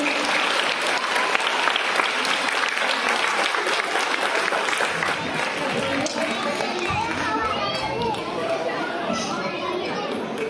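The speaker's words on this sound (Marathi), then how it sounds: "जोरदार टाळ्या होऊन जाऊ दे" Loud, sustained applause from a large audience at a welcome and felicitation ceremony, dense clapping filling the whole stretch with crowd chatter and voices mixed underneath.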